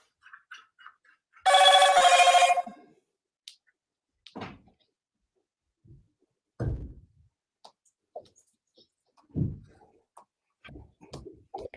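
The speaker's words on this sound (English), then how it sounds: "That was my phone" Phone ringing in one short electronic trill burst lasting about a second, followed by scattered quiet knocks and thumps in an otherwise silent room.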